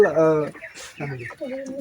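Chickens at a poultry farm in Bangladesh cluck and squawk close by in short, throaty bursts, one after another, with a voice mixed in.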